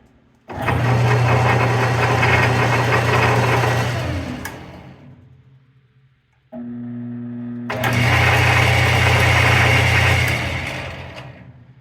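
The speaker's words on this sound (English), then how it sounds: "The lathe is working again." A 1983 Manhattan Supply Company lathe runs with a loud, steady motor hum and whine, spins down, then starts again and runs a second time, with no talking.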